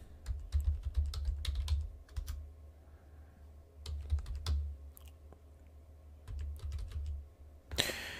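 Typing on a computer keyboard for a Google search: quick bursts of close, soft key clicks with short pauses between runs, over a faint low room hum.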